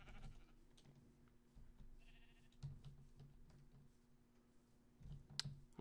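Sheep bleats from the video game Minecraft, a few short, faint bleats set against a steady low game hum, with soft clicks scattered through.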